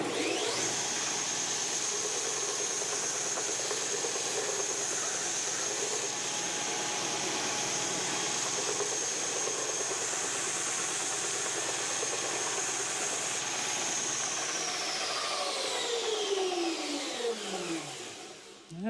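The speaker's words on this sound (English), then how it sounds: "here we go, the first pass on a belt sander" A belt sander works hard maple and cherry burl wood in one long, loud, continuous whine with a steady abrasive hiss, then spins down near the end.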